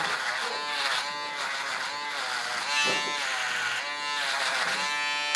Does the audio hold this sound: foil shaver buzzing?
yes